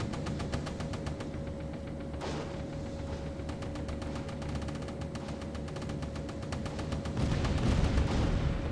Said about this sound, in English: There goes anti-aircraft guns.